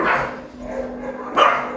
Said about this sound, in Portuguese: os cachorros da hoje tá tudo doido